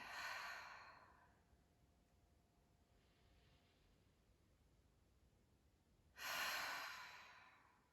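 Two long, slow exhalations through the mouth during yoga breathing, soft and close, each fading out gradually with a quiet pause of near silence between them.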